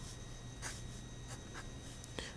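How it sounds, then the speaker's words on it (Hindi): A pen writes numbers by hand on paper in a few short, quiet scratchy strokes, close and soft against a low steady room hum. "अब यहाँ ये वैल्यूज़ लिखते हैं"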